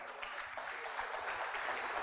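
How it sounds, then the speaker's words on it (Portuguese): Worshippers clap for the Lord at a church service, an even, continuous crackle of many hands at moderate loudness, with no voices over it. "Aplauda o Senhor"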